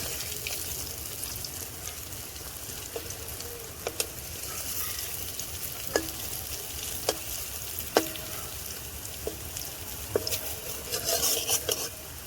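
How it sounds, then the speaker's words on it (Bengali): Lentil fritters sizzle steadily in hot oil in a pan, a continuous crackling hiss broken by occasional clicks and scrapes of a utensil against the pan as they are turned. "ডালের বড়াগুলো উল্টে দেব, উল্টে পাল্টে একদম লাল লাল করে ভেজে নেব।"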